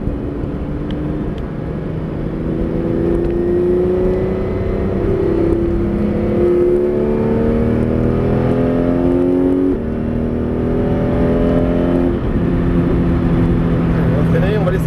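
A Porsche 911 GT3 RS (991) on the Clastres circuit, its engine note falling and rising through a series of downshifts under braking, loud and close throughout with wind noise and a voice talking over it.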